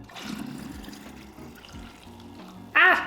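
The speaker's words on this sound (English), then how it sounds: "I'm gonna pour the juice back into here because it makes it easier to pour it into the molds" Gelatin and juice mixture poured into a glass juice bottle, giving a steady low trickle and gurgle that ends in a sudden louder splashing rush near the finish, heard up close without talk.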